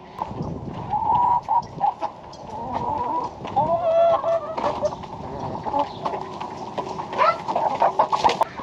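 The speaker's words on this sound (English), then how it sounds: "So yeah, we got lots of chickens." A flock of egg-laying chickens on a farm clucks and calls continuously at close range, overlapping squawks and rooster-like cries rising and falling with no talking.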